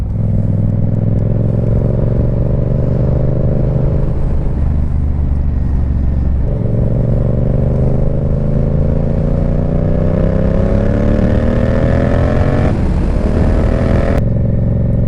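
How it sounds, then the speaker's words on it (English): A loud motorcycle engine rumbles and revs up close, pitch climbing through several gear pulls with brief dips between shifts as it rides along, no talking. "listen to that. Sounds like a Harley."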